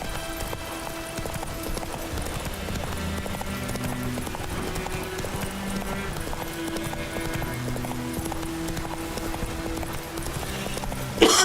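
Geralt's horse Roach trots in The Witcher 3, a steady clip-clop of hooves beating out an even rhythm, close and clear over faint background game ambience.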